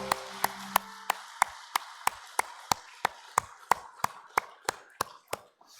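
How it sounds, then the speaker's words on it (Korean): A church congregation claps in a steady, even rhythm during a Sunday worship service: sharp, close, evenly spaced claps about three per second, with a faint low sustained tone fading out early. "우리 하나님께 영광의 박수 올려드리겠습니다"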